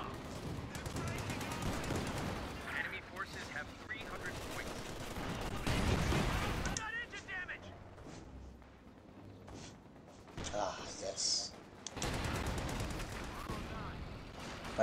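A Soviet anti-tank gun fires during a Company of Heroes 2 battle, among bursts of gunfire and heavy thuds that come and go, with a voice talking over parts of the fighting.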